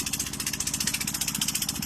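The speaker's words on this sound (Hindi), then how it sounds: "ट्रैक्टर कीचड़ को पार करते हुए आगे बढ़ रहा है" A tractor engine chugs in a fast, steady pulsing rhythm, close and moderately loud, while the tractor drives through mud, with no voices.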